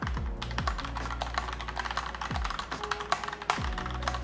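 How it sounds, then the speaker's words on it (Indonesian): Fingers type on a mechanical keyboard with special emoji keys, giving a rapid, uneven patter of close plastic clicks with a few heavier thocks, no speech. "Kita coba mengetik di keyboard ini."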